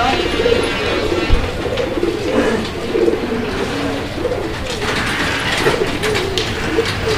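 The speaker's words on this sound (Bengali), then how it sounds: "এখানে আরো এক জোড়া কবুতরের কালেকশন রয়েছে" A pair of nun pigeons coos steadily at close range, soft throaty repeated calls over a busy background of mechanical rattling and clicking, with no talk.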